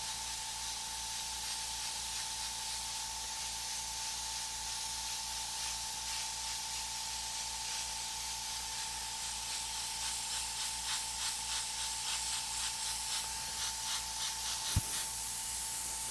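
An airbrush sprays a thin paint glaze coat in a steady soft hiss, continuous and fairly faint, with a constant high whine and some light tapping near the end.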